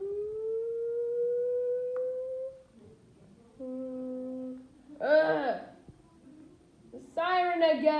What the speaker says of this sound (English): The siren again.